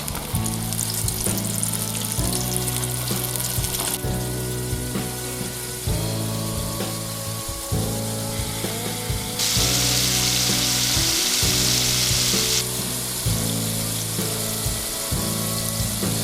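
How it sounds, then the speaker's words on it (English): Steady, loud sizzling of catfish frying in hot oil, continuous crackle and hiss with bubbling underneath, no voices. "I'm just going to shut my mouth for a minute and let you listen to that sizzle."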